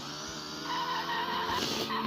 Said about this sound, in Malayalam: ഈ ബൈക്ക് കൊണ്ട് വളച്ച് കഴിഞ്ഞാൽ തെന്നടിച്ച് വീഴും